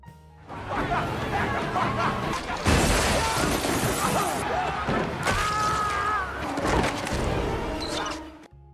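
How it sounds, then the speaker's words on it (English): A glass wall in a crowded store shatters under the pressure of a stampeding crowd. A loud crashing burst sits among dense crowd commotion and overlapping voices throughout. "the glass shatters, causing mayhem in the store"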